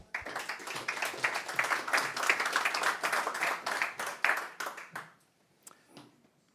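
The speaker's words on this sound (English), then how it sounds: "So round of applause, please" An audience at a Linux conference talk breaks into applause, a dense burst of clapping that holds steady for several seconds and then thins out to a few scattered claps before fading.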